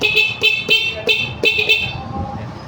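Car horn sounded from the horn switch inside a car: five short honks in a quick uneven rhythm, loud and close, then fading into quiet cabin noise.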